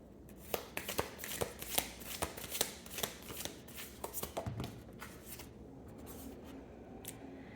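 Oracle and tarot cards are shuffled close up, with a rapid run of crisp riffling flicks that thins out toward the end, no voices.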